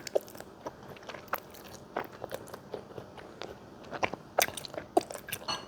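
A child eats triple-spicy Korean instant noodles up close, with a steady run of soft bites, crunches and chewing sounds that come in irregular bursts, with no talking.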